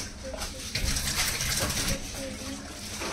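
Tap water runs and splashes steadily while dishes or food are washed in a home kitchen, a dense close gushing with a few clinks, and a voice speaks faintly underneath.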